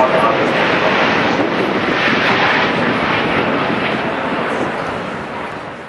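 Airliner powered by Rolls-Royce Trent 900 triple-shaft engines passing at the Farnborough airshow, a loud, steady broadband jet roar with wind buffeting that slowly fades toward the end.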